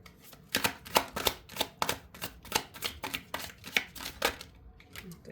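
Someone shuffles a large deck of tarot cards by hand, giving a quick run of crisp riffling clicks and slaps at close range with no voices.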